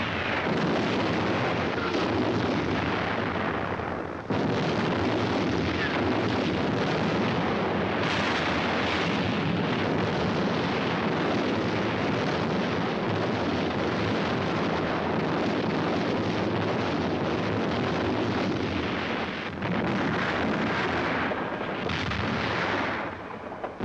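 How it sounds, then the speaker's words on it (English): Long-range artillery hurling high explosives into the city of Leningrad during the siege; a constant, rumbling roar of shelling and blasts, broad and heavy, with a few sharp breaks in the din. "long-range guns hurled ton after ton of high explosives into the heart of the city"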